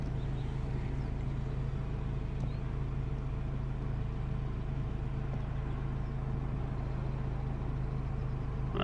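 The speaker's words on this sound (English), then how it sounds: "Traffic is heavy now." Heavy road traffic streaming past nearby as a steady, continuous engine and tyre rumble, with no gaps and no talk.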